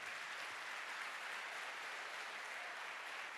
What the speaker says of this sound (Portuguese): se expresse e aplauda o Senhor